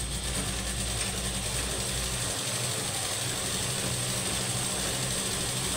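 A sewing machine runs stitches along the side seams of a garment, giving a steady, close mechanical whirring clatter that continues unbroken with no talking.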